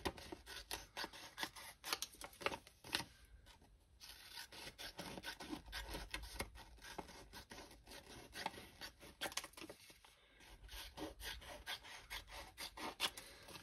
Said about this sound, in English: I might just trim it down a little bit so that it'll fit in.